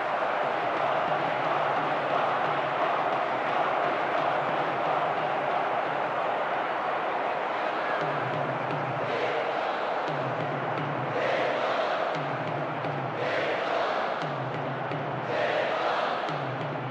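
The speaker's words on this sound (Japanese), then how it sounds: "正確無比なシュート、大きな歓声です。" Stadium crowd roaring in the PS3 football game World Soccer Winning Eleven 2010 during a Japan versus Spain match after a goal: a dense, sustained cheer with rhythmic chant-like swells toward the end.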